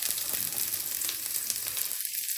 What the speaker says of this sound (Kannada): ನಾವೀಗ ಇದನ್ನೆಲ್ಲ ಫ್ರೈ ಮಾಡ್ಕೊಳ್ಳೋಣ.